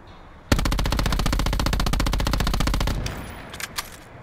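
Rapid automatic fire from an SOG gun in a video game: one loud, close burst of evenly spaced shots runs for about two and a half seconds, followed by a few faint clicks and rattles.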